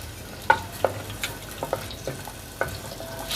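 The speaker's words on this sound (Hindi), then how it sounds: "तेल को मैंने पतीली में डाल दिया, तो इसमें मैंने ये थोड़े से जो साबुत गरम मसाले थे वो डाल दूंगी।" Whole garam masala spices dropped into hot oil in a pot, giving soft sizzling with a string of sharp pops and crackles at irregular intervals, close and fairly quiet.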